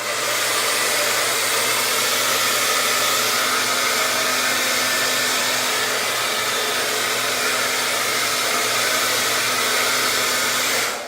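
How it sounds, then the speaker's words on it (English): A hair dryer runs on its highest heat and fan setting, a loud, steady, close-up whoosh of blowing air with a constant motor hum, holding unbroken for the whole stretch before cutting off at the end, with no voices. "your handy dandy hair dryer here, you're going to put it on the highest heat setting and on the highest fan setting."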